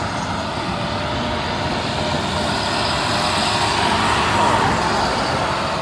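International garbage truck passing on an Ohio roadway: a loud, continuous broadband engine and road roar that stays steady and swells slightly near the end, close by, with no clear talking.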